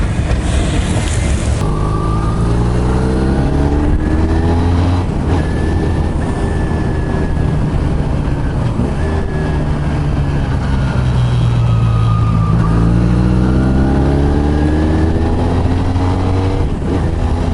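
A motorcycle engine with the muffler's DB killer baffles in place runs steadily while riding on a commute, a low continuous drone with pitch rising and falling through gear changes over wind noise.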